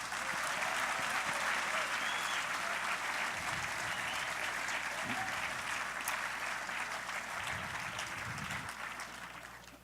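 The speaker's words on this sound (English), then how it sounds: "whilst you've still got your hands in the sort of clapping position" An awards ceremony audience claps steadily for close to ten seconds, a dense, even roar of applause with faint crowd murmur underneath that tapers off slightly at the end.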